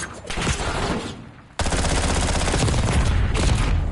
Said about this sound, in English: That was a good shootout.